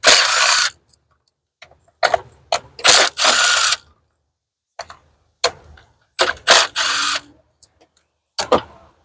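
A hand ratchet clicks in quick bursts as it loosens the 10 mm ignition coil bolts on a 2016 Nissan Rogue engine, close-up, with short pauses between the runs of clicking.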